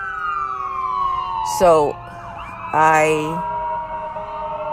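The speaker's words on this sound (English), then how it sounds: "Paramedics and ambulance are driving by." An ambulance siren wails twice as it drives past, two loud rising-and-falling sweeps over steady traffic hum, with a voice talking briefly nearby.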